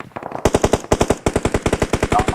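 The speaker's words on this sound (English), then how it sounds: "I'm hearing a lot of gunfire here." Rapid automatic gunfire from PUBG rattles out in fast, loud bursts of closely spaced shots, with a brief pause between volleys, near and dominant with no talk over it.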